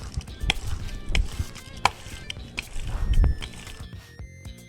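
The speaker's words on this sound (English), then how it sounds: "With a pasta machine, it's a lot easier because it has the 2 rollers on it" A hand-cranked pasta machine with two rollers presses fresh homemade pasta dough. Close, irregular mechanical clicks and soft ratcheting thumps repeat under a steady low rumble.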